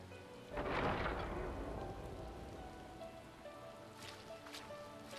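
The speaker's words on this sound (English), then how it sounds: "Because it is raining." Steady rain patters across a surface in the video game Final Fantasy XIV, with a low rumble swelling early on like distant thunder, continuing evenly to the end.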